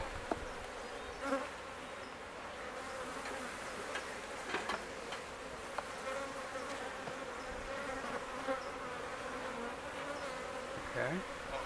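Bees buzzing in and around a wooden hive box, a faint steady hum with occasional soft ticks and knocks of handling.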